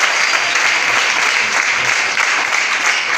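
A church congregation at a Sunday service breaks into loud, continuous applause, a dense, unbroken wash of clapping throughout.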